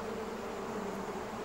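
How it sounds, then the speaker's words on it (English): A swarm of bees buzzes steadily around a fireman by a steam engine's warm boiler, a dense, continuous drone that stays level throughout and cuts off abruptly. "The bees were too cold to be cross, so they buzzed around the fireman"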